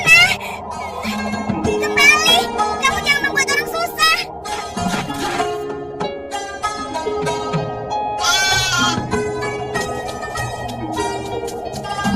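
Goats bleat repeatedly over a background of music and talk, the calls rising and wavering at a moderate distance.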